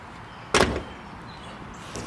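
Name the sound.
car door closing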